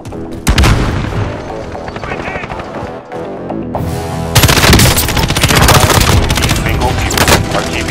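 Enemy gunfire in Call of Duty Warzone: loud, dense bursts of automatic shots with booming impacts, swelling into sustained firing in the second half, while voice callouts sound over the chaos.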